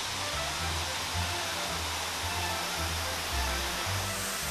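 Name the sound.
Thai emerald waterfall rushing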